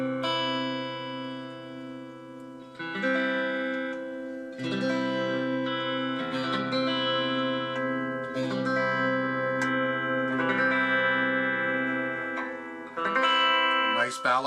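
A 2013 American Special Stratocaster played through a black-face-style clean amp model with a touch of reverb, ringing chords and sustained notes strummed in loose phrases, close and steady, with no talking.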